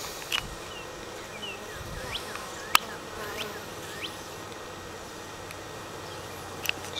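Honeybees buzz at an opened hive with the lid just removed, a steady close hum of many wings with individual bees whining past. A few sharp taps sound, and no one speaks.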